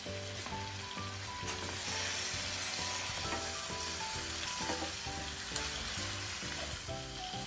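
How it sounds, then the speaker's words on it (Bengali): A pre-fried rohu fish head sizzles in a pan in a steady, faint hiss of frying oil that runs evenly throughout, with light stirring clinks and no talk. "এখন অ্যাড করছি আগে থেকে ফ্রাই করে রাখা রুই মাছের মাথা।"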